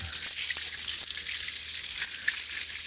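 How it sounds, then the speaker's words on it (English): A garden hose sprays water to rinse out a bucket outdoors, a steady hissing rush with small splashy fluctuations as the stream hits the plastic, continuous and fairly close. "And get stuff hosed out of there and off of that."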